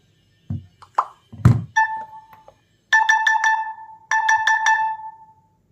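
A Tecno Pova Curve 5G phone's anti-theft alarm goes off in two bursts of rapid, bright electronic chimes, loud and close, after a few soft plopping taps.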